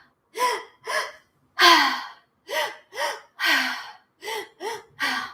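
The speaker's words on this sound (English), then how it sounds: "So this is the breath again." Deep breathwork breathing sounds close and loud, a series of about ten sharp, forceful gasping breaths in an uneven rhythm with brief silent gaps.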